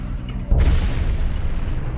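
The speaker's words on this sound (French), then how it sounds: "C'était une explosion vraiment puissante et étonnante." Supernova explosion sound effect for a star's death: one deep, booming blast that hits suddenly and then rumbles away slowly.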